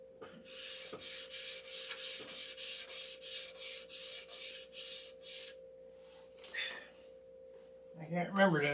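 A lacquered wooden surface is sanded by hand in a steady run of rhythmic back-and-forth strokes, close and even. The strokes slow and break up, then a person starts talking at the end.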